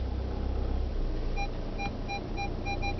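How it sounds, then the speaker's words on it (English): A 2012 Skoda Rapid Elegance's rear parking sensors beep while reversing, a run of short, evenly spaced electronic tones over a low engine rumble inside the car. "Now the rear sensors beep"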